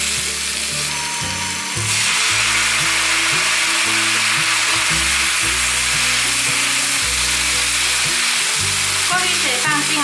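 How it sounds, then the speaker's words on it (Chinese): Kaofu wheat gluten stir-frying in a pan with other vegetables, a loud steady sizzle with scraping and stirring clatter throughout, close by and alone without voices. "放入烤麸。 大约略炒一下"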